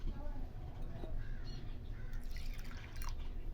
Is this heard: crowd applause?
no